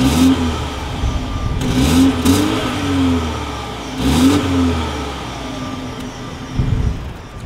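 A 2020 BMW X2 with dual chrome-tipped exhausts is revved at standstill, three sharp throttle blips rising and falling in pitch over a steady idle, loud and close, with a final short blip at the end.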